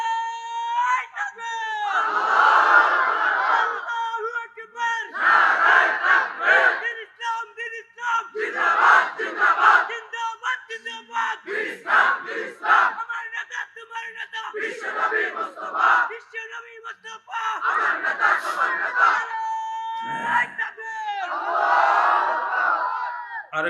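A large crowd loudly chanting slogans in repeated rhythmic bursts of massed voices, each shout rising and cutting off, with short pauses between rounds.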